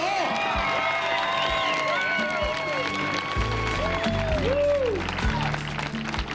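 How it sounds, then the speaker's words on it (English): Audience at a bass fishing tournament weigh-in on the Columbia River applauds and cheers the winner, a loud sustained crowd roar with whoops rising over background music. "Give him a big round of applause"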